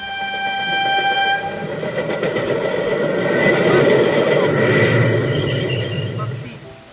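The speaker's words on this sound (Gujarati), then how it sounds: "રેલવે સ્ટેશન પર રેલ આવે છે" A train pulls into a railway station, its broad rumble of wheels and cars swelling steadily to a peak and easing off near the end, with a sustained horn-like tone running through the opening seconds.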